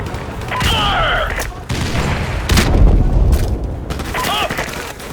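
Heavy gunfire and explosions from Call of Duty: Modern Warfare Remastered during an aerial gunship mission, with loud, booming blasts and dense bursts of fire rolling one after another.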